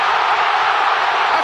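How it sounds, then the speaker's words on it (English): A large stadium crowd at a football match roars in a steady, loud, dense wash of cheering with no clear breaks. "A crowd!"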